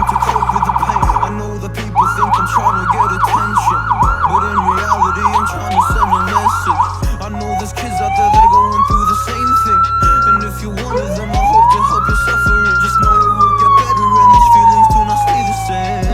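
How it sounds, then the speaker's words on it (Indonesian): A police escort siren fitted to a Toyota Camry runs through several modes, first a fast pulsing yelp, then slow rising and falling wails, loud and close, with a horn-like blast at the start. "Coba sirinenya."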